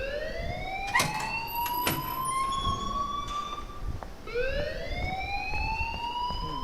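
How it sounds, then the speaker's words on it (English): Alarm wailing in the Life Is Strange video game, a rising siren-like sweep that repeats twice over a noisy background, with a few sharp clanks, loud and steady throughout. "please turn off that alarm since that's your job"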